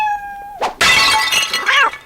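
Loud cat yowl used as a sound effect, a short tonal whine that breaks into a harsh, screeching caterwaul with a rising and falling cry, with a crash-like burst in between.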